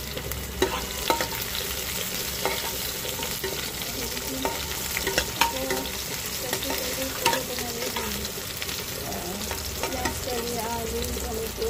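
Five-spice tempering frying in hot oil, a dense continuous sizzle with intermittent spatula scrapes and clinks against the pan, steady and fairly loud without speech.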